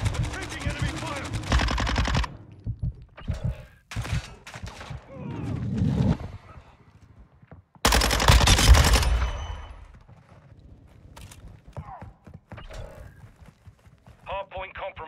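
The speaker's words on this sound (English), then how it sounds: "Taking enemy fire." Bursts of automatic gunfire from Call of Duty Modern Warfare 2 (2022) multiplayer, loud repeated volleys with pauses between, mixed with in-game announcer voice lines and other game sounds.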